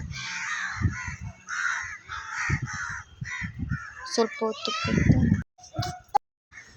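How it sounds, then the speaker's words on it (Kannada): Crows caw repeatedly from a tree close by, harsh calls overlapping, while a person talks underneath. "ಪಕ್ಷಿಗಳು ಹಕ್ಕಿಗಳು ಎಲ್ಲ ಬರ್ತವೆ ಅದೇ ಸೌಂಡ್ ಕೇಳಿಸ್ತಾ ಇರೋದು"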